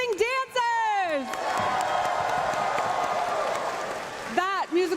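A large crowd applauds and cheers for dancers at the 2024 Pokémon World Championships, a dense wash of clapping and whoops rising in the middle, with an announcer's voice speaking over the start and end.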